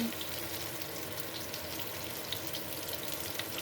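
Meatballs sizzle steadily in hot oil, a dense continuous frying crackle with no voices, close and even throughout.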